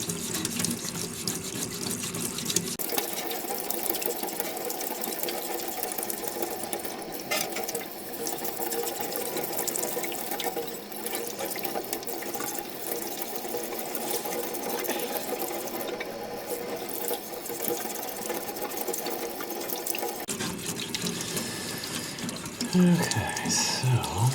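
Water from a tap runs over the base of a ceramic lamp during rinsing, a steady hiss of flowing water that shifts partway through with clattering handling noises and a faint voice in the background.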